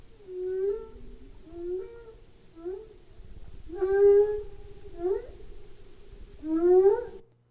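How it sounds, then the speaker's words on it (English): Humpback whale song: about six tonal moans and upswept cries come in a slow, repeating phrase, each note rising or bending in pitch, clear and fairly loud over a low, steady underwater rumble. "So I'm going to play a short piece of a humpback whale song."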